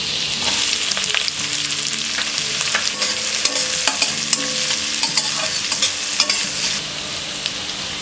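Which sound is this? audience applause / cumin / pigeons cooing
cumin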